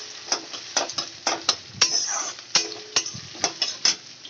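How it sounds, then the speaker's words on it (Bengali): Chopped onions fried in oil in a pan for a lentil dish with fish heads, with repeated sharp spatula strokes and scrapes over a light sizzle, close and rhythmic. "সেই পেঁয়াজ কুচিটা আমি দিয়ে দেবো পেঁয়াজটা আমি একটু লাল লাল করে ভেজে নেবো"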